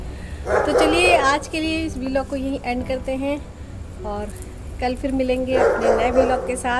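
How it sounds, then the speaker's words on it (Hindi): Dogs bark at night near a rooftop with potted plants, several yips and barks coming between stretches of someone talking, with bursts at the start and end. "क्योंकि कुत्ते भी भौंक रहे हैं रात में"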